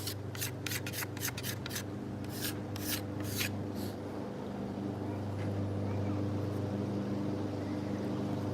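A lawnmower runs outside during bow tillering of a maple selfbow, a steady low mechanical drone throughout under a series of rhythmic rasping strokes from working the wood.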